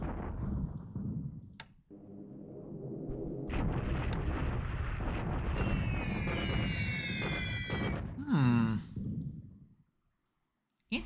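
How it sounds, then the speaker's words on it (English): Ground bombing in the War in the Pacific strategy game, a layered run of rumbling explosion and gunfire effects with clicks and a sweeping whine, fairly loud, with a voice heard over it. "it's just ground bombing hitting these units here"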